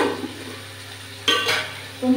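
Onions being stirred in a hot frying pan for meat curry, a faint steady sizzle with a couple of louder scraping stirs near the middle and end.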